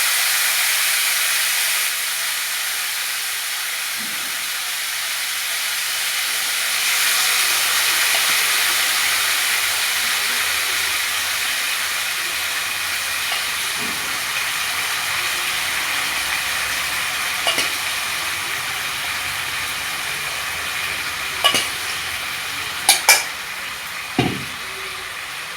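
Boiled brinjal is tossed into a hot pan with mustard seeds. A loud, continuous sizzling hiss persists, and toward the end a few sharp spatula taps and scrapes ring out.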